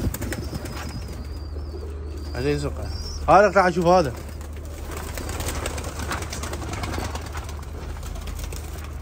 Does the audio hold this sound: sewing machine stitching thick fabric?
no